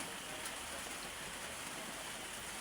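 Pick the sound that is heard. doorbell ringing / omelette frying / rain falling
rain falling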